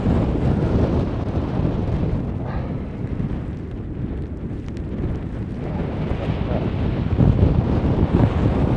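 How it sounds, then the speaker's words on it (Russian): Strong storm wind on the Black Sea shore near a pier at Vityazevo, Anapa, buffeting the microphone with a constant loud roar and gusts, with surf rumbling underneath. "Настолько жуткий ветер."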